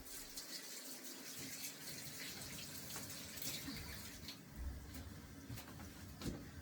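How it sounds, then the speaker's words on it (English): Running tap water pours steadily while hands are washed under it, a continuous close splashing hiss with small shifts as the hands move through the stream. "Stay tuned while I wash my hand"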